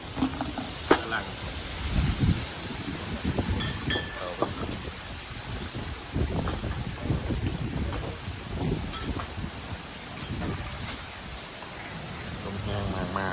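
A strong wind blows during a summer storm in northeastern Thailand, with gusty buffeting and rushing noise against the microphone, rising and falling in bursts, while people talk over it.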